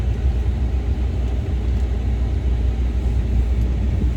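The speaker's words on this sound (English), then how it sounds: "I'm gonna leave the truck running because it's cold and I like the heat" A pickup truck engine idles on a cold day in a narrow wooded path, a steady low rumble that holds near and even throughout with no voices.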